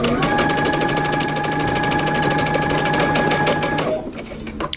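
Basting stitches run along a coat sleeve cap on a sewing machine, a loud, close, steady mechanical chatter that holds for nearly four seconds, then stops, followed by faint handling noise.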